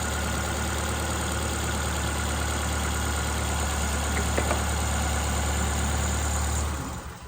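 Ford car engine idling steadily at close range, a continuous even mechanical drone with no voices, cutting off abruptly near the end.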